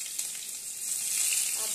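Bay leaf, chili and onion fry in hot oil with a bright, close, continuous sizzle that swells slightly partway through.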